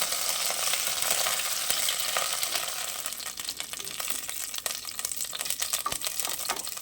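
Carrot pieces frying in hot oil in a pan, a steady close sizzle with crackling and occasional light scraping clicks, no voices.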